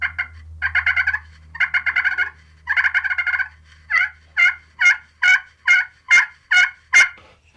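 A slate turkey call worked softly with a striker gives raspy, rattling purr-like strokes, then a steady series of single clear yelps at an even pace, close by over a faint low hum.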